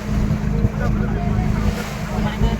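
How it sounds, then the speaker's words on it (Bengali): A large ship moves through river water nearby. Rushing water and a broad low wash roar on steadily and loudly, with wind buffeting throughout. "দেখতেই পাচ্ছ বন্ধুরা জাহাজটা কত বড়, কীভাবে জল কাটছে দেখো পিছনে"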